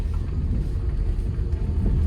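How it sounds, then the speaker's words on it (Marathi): A car pulling off slowly in first gear on a test drive, a low steady engine rumble close by with no other sounds over it for a couple of seconds. "गाडी चालवतोय मी ते."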